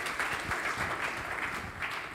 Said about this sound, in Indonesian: Mari kita berikan tepuk tangan untuk kemuliaan Tuhan.